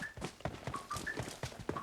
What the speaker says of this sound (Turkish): ayak sesi var dur.